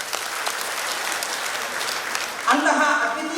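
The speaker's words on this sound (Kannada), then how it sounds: "ಬರಲಿ ಒಂದು ಜೋರಾದ ಚಪ್ಪಾಳೆ." Loud audience applause at a memorial anniversary celebration, dense continuous clapping from a large crowd, joined near the end by a voice speaking over it.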